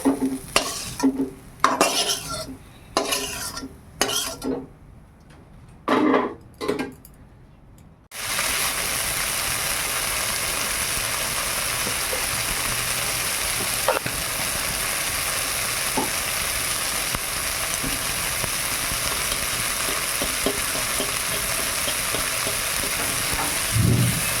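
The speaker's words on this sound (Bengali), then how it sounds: "এবার শাকটা ভাজবো" Leafy greens frying in a pan in a village kitchen, first a series of sharp stirring scrapes and clatters, then a loud, steady, continuous sizzle held for a long stretch, close by with an occasional utensil tap.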